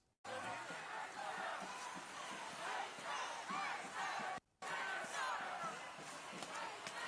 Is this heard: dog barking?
no